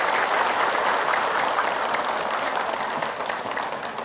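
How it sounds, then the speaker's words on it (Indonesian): A small group claps warmly in celebration, a dense, continuous round of applause that holds steady and eases slightly toward the end. "tepuk tangan deh"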